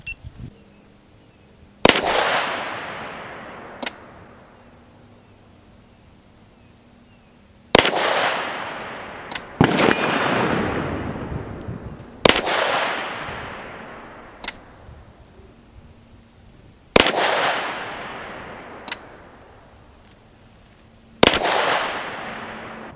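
CMMG Banshee MK10 10mm gun fired outdoors, sharp loud shots each followed by a long echoing decay, about ten reports in uneven pairs and singles across the span.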